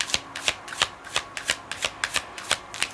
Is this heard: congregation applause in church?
no